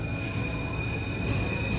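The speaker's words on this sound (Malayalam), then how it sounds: "ആ ഗുഹേൻ്റെ ഉള്ളിലേക്കാണ് ഇപ്പോൾ മെട്രോ പോകാൻ പോകുന്നത്" A Paris metro train rolling into a tunnel gives a steady rumbling drone with a faint high whine, heard briefly and continuously with no voices.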